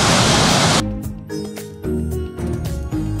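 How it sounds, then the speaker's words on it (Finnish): Finland's second-steepest waterfall roars as a loud, dense rush of falling water, then drops away abruptly as quieter ambient sounds take over. "siinä on Suomen toiseksi jyrkin vesiputous"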